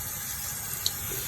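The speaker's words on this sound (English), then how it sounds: "you're gonna rinse it with warm or hot water. Just gonna rinse it" Warm tap water runs steadily over a microwave exhaust filter being rinsed in a sink, a soft continuous hiss with a faint splash near the end.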